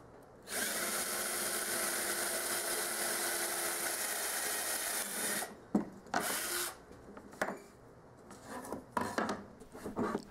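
A power drill fitted with a hole saw bores a 2-inch hole for a woodworking jig, a steady loud grinding whine for about five seconds, then stopping and starting in short, rough bursts.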